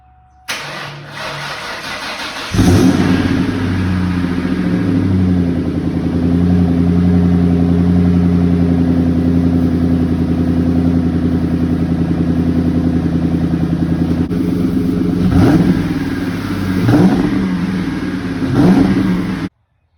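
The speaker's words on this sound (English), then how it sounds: "So I'm gonna go ahead and get you back here for a cold start up" A stock 2001 Mustang Cobra with 98,000 miles cold starts with a sharp crank and catch, then settles into a loud, steady idle, with several quick revs blipping near the end.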